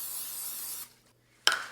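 Non-stick cooking oil sprays into a mug for a protein mug cake in one steady hiss lasting under a second, followed by a pause and then a brief second burst.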